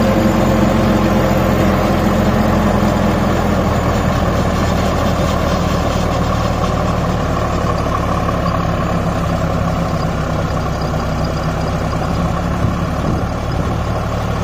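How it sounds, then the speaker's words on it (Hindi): A Sonalika DI 35 tractor pulling a 7-foot rotavator in low gear runs close by with a loud, steady diesel drone and churning rumble, continuous and unbroken, with no voices. "Sonalika 35 double क्लेज without driver, 7 feet rotavator"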